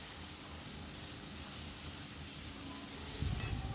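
Onions frying in oil for a Bengali meat curry, a steady soft sizzle and hiss that swells slightly louder near the end.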